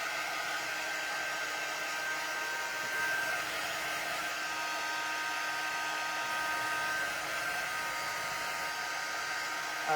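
A heat gun runs steadily with an even, continuous blowing whine for the whole stretch, fairly loud and close, with no talk over it.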